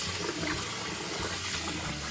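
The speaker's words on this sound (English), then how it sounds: "I usually fill this pot about 2/3 full, which allows enough room for that yarn to move around" Water running steadily into a pot for yarn dyeing, a continuous rushing fill close by, with no talk.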